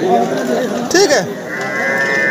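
A buffalo at a livestock market in Dildarnagar gives one drawn-out, rising moo close by, set against steady crowd murmur and nearby talk.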